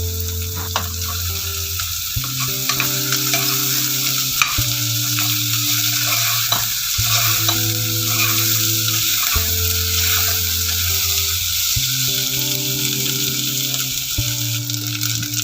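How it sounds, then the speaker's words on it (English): Sliced onions and potatoes fry in a pan for egg pulao, a loud steady sizzle broken by repeated scraping stirs of a spatula every few seconds; no talking. "Fry till the onion becomes soft."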